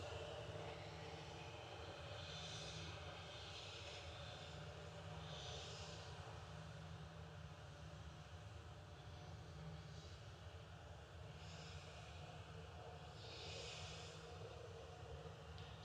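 A Lufthansa airliner lands at Manchester Airport on a grey, damp day, heard as a faint, distant, steady jet roar that holds level throughout.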